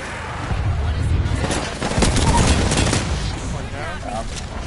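Gunfire in a battle royale video game, a dense fusillade of rapid automatic shots mixed with explosive bursts, loud and continuous across the whole stretch, with voices talking faintly underneath.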